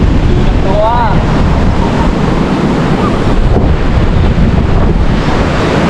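Strong wind buffets the microphone over crashing surf on a busy beach in Phang Nga, Thailand, a loud continuous roar of waves and gusts throughout, with no clear talk.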